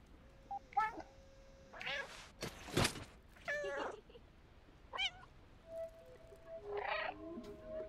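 A cat in the game Stray lets out several short meows spaced across the moment, close and fairly clear, with a few electronic beeps and tones between them.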